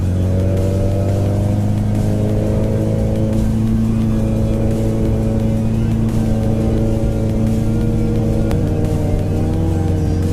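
A 2008 Suzuki Hayabusa motorcycle being ridden, its engine droning loudly and steadily with strong low harmonics that shift slightly in pitch as the throttle changes, heard close and continuously.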